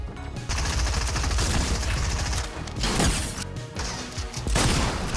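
A shooter video game plays rapid, dense bursts of gunfire with heavy booming impacts, loud and close. The volleys come in clusters with brief gaps between them over about five seconds.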